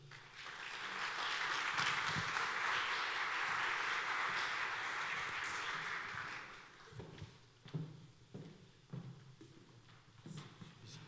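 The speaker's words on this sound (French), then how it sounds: "Je pense que vous pouvez les applaudir." Audience applause for a panel at a French round-table conference, a dense, steady wash of clapping that holds for about six seconds, then thins into a few scattered claps and footsteps.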